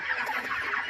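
Surviving chickens on a poultry farm where most of the flock was killed give a brief, steady clucking chorus lasting under a second, fairly close and without speech.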